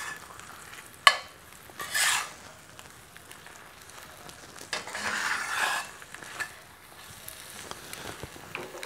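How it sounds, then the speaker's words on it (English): Eggs being scrambled in a rusty cast iron skillet over a gas flame: soft sizzling under several scraping pushes of a spatula across the pan, with one sharp knock near the start, close and moderately loud. "Usually when I scramble eggs, once I get to this point, I will just bulldoze along."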